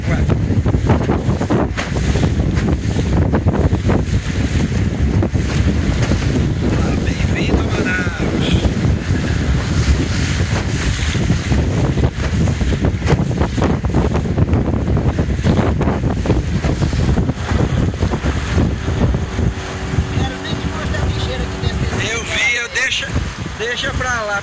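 A small motorboat ride in the port of Manaus, Brazil: a constant engine drone mixed with rushing water and strong wind buffeting the microphone, with someone speaking over it throughout.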